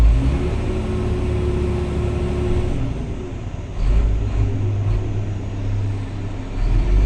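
A reach stacker's diesel engine runs steadily at a container terminal while a container is lined up and lowered into place, a continuous low rumble with a brief rise in revs midway.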